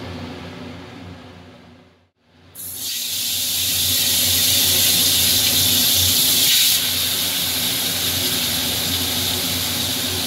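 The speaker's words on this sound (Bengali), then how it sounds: "আমি সরষের তেলটা দিয়ে দিচ্ছি। সরষের তেলে মাছ ভাজা" Koi fish dropped into hot mustard oil erupts into a loud, steady frying hiss after a brief quiet gap, the sizzle holding strong and close for several seconds before easing slightly.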